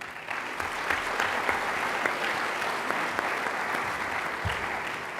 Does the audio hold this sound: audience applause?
yes